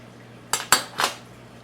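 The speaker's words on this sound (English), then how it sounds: "Go ahead and just cut off a piece there." Knife cutting a piece off a gluten-free Southern-style biscuit, three quick close clinks and scrapes of metal against a plate in under a second, then quiet.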